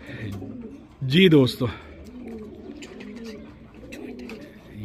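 A pair of pigeons from Karachi gives one short, clear burst of cooing, close and loud, while someone talks before and after it.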